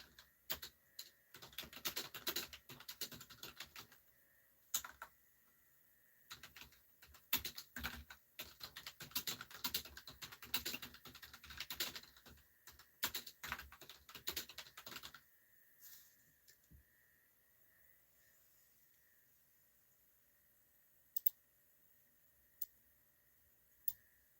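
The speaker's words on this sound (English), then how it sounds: "My typing skills are not the best." Someone types at a close, quiet computer keyboard in irregular bursts of rapid clicks for about fifteen seconds, then stops, leaving only a few isolated clicks later on.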